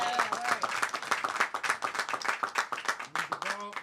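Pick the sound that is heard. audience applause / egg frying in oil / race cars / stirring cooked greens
audience applause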